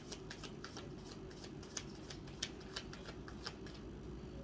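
Tarot cards being shuffled and sorted through by hand, a steady soft papery riffle with a few crisp snaps and flicks standing out, close and fairly quiet, with no talking.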